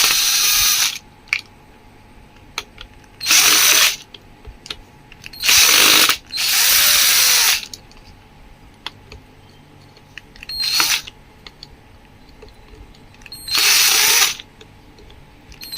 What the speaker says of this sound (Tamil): கீழே இந்த பக்கம் இந்த கியர் பாக்ஸோட ஸ்க்ரூவை நீங்கள் கழட்டிக்கோங்க